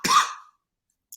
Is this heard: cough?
yes